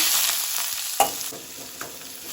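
Chopped onion and green chilli hit hot oil with mustard seeds and cumin, a bright continuous sizzle with a sharp clink and a few stirring knocks, close and free of talk.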